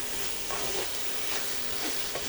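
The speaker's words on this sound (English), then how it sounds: "I'm going to saute this rice a little bit." Rinsed Calrose rice sautéing in a pot for local-style gandule rice, with a soft continuous sizzle and gentle scraping stirs, close and fairly quiet, no talking.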